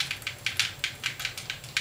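Fast typing on a keyboard inside a house, a quick, even patter of crisp, bright keystrokes at close range, roughly five per second, with no voices.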